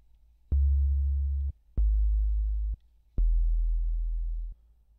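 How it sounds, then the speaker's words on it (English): Three sustained notes of deep sub bass sine tone, each about a second long with short gaps, smooth and humming, no other sounds. "You just play a sine wave at a very low frequency."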